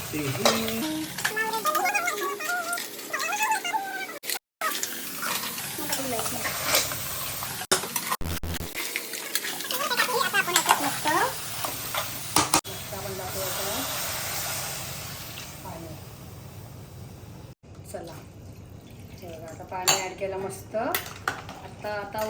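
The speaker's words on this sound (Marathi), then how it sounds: "चला आता मसाला मिक्स करूया" Crabs and masala stirred in a metal cooking pot for a spicy Agri-Koli crab curry, giving repeated scraping clinks of a spoon against the pot over a sizzling hiss, close and loud, with background music and some talk.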